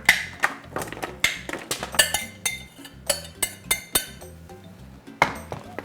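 Oil-coated potatoes set onto a metal baking sheet, a close series of sharp clinks and taps in an uneven steady rhythm, with no talking.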